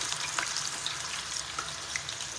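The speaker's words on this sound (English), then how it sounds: "So I'm frying my yam." Yam slices fry in a pan of hot oil, a steady dense sizzle with small crackling pops throughout, close and fairly loud with no talking.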